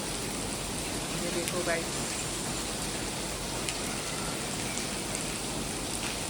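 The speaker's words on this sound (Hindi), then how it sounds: "उसी वजह से वो आज भीग रही है बारिश में" Steady rain falls and patters on surfaces, a dense continuous hiss, while a person speaks briefly over it.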